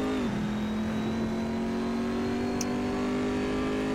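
A racing car engine in the video game Assetto Corsa at Lédenon circuit holds a high, steady whine at full throttle on the straight, dipping slightly at the start before sustaining one continuous note.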